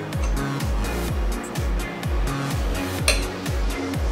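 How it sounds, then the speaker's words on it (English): Cream cheese frosting with vanilla being beaten in a bowl by a mixer for carrot cake, a steady motor hum with rhythmic repeating swells and occasional light clinks against the bowl, no talking. "I'm going to mix in our vanilla."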